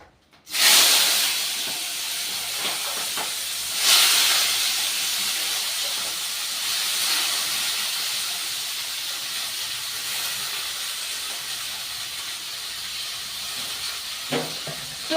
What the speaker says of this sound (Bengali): এবার এই ধুয়ে রাখা সবজিটা আমি একটু ভেজে নেব।